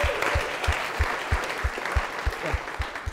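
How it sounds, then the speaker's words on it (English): A college late-night show audience applauds for the Student Programming Board, a moderate crowd clapping steadily with some sharp individual claps standing out near the front. "let's get a round of applause for SPB."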